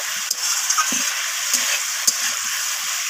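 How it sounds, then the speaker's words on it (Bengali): Beans, potato and cauliflower sautéing with spices in a pan, a dense continuous sizzle with a few soft thuds and scrapes of stirring, close and steady throughout. "এইভাবে আমি কিছুক্ষণ সব কিছু সবজিকে মশলার সাথে একটু ভালোভাবে কষিয়ে নেব"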